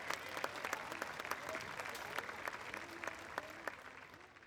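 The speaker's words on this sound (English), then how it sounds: "How about a little hand clap?" Crowd applause with scattered hand clapping at an outdoor gathering, a fairly quiet, distant wash of claps with a few sharper individual claps and some faint voices underneath.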